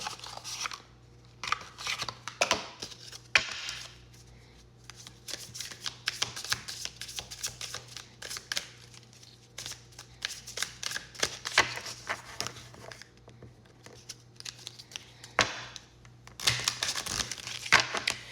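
An Angels Abundance oracle card deck being shuffled up close, repeated quick riffling bursts of paper cards with short pauses between them, crisp and quiet against a faint room hum.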